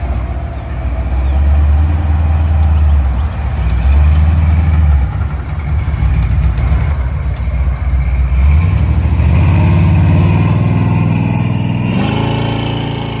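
A 1966 Chevy Chevelle SS with a 498 V8, headers and Flowmaster 40 Series mufflers rumbles loudly and close, with a deep lumpy idle, repeated throttle blips and a final revving pull away.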